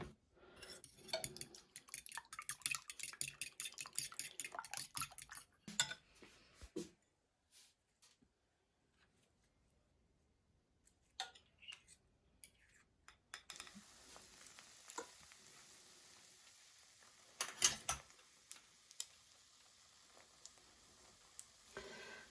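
Meat patties made from minced meat with finely chopped onion sizzle and fry in a pan, with scraping and clinking of a utensil, quiet stretches, and a few louder handling bursts.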